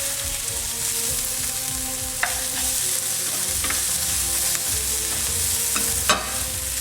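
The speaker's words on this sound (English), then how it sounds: "we don't need to cook the onions all the way through" Onions sizzling and frying in a pan as the base for a lamb tagine, a steady close crackle with a few utensil scrapes and taps while stirring.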